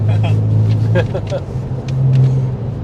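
Porsche 911 Carrera 996 engine revving with a loud, close rumbling drone that dips and swells again, heard from inside the car with talking over it.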